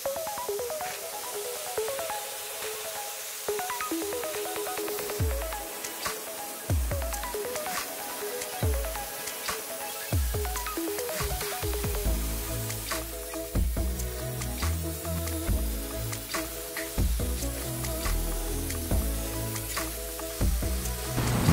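A Cold Jet dry ice blaster cleans road grime and oil from a BMW undercarriage during auto restoration, a continuous loud spraying hiss with rattling, knocking impacts building over time.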